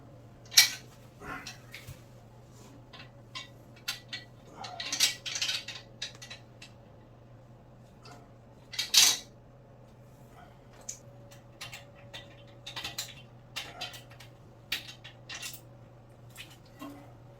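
Metal spanner or monkey wrench loosening the bolts at the base of a toilet: scattered sharp metallic clinks and taps, irregular and close, over a low steady hum, with no speech.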